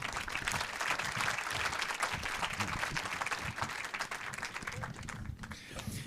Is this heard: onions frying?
no